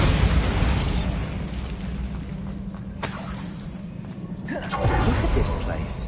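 Bombarda spell blasts in Hogwarts Legacy give a heavy rumbling boom, then sharper bursts and crackling debris a few seconds later, loud and close.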